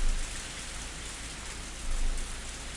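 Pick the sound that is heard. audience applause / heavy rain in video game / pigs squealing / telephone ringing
heavy rain in video game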